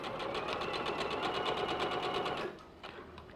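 A sewing machine chain pieces quilt block pieces, running a fast, even, close rattle of stitching for about two and a half seconds before slowing and stopping, then a brief short burst.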